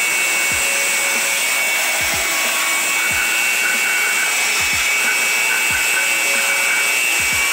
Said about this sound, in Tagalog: Kung may blower kayo, para mas matanggal yung mga dust, kasi hindi lahat nakaabot ng brush.